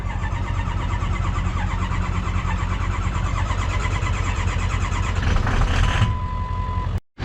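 A Ford 6.0 Powerstroke diesel truck engine, fitted with new injectors, heads, gaskets and glow plugs, cranks and runs with a steady, loud, close rumble that grows rougher briefly before cutting off abruptly near the end.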